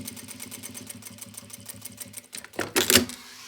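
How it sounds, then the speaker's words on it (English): A sewing machine runs an edge stitch along a skirt, a close rapid even chatter of needle strokes for a couple of seconds, then a louder burst of whirring and clatter near the end. "I'm going to sew the face and back right on the edge. This is like called an edge stitch."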